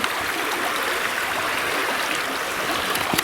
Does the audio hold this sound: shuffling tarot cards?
no